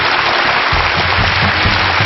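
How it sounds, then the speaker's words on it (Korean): A lecture audience at the Korean talk show Lecture 100°C applauds its three speakers, a loud dense clapping that fills the room continuously, with a low rumble underneath. "세 분에게 여러분 박수 부탁드립니다"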